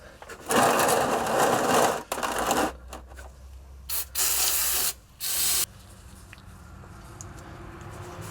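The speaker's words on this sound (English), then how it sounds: "so spray around it" Hissing bursts from an aerosol can, several sprays of a second or two each, separated by short pauses, loud and close with no talking, sprayed around a Ford F-150 differential during pinion seal replacement.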